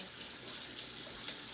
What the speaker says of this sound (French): Je rince ma cuillère.